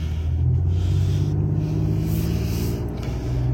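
Car engine running under load as it pulls away on a cold 50-degree day, a steady low rumble with a faint rising rev, close and continuous with no talk.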